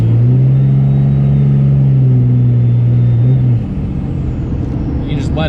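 A Cummins diesel engine in a pickup truck rumbles loudly and steadily under light throttle with turbo boost, its low drone holding then dropping slightly in pitch near the end.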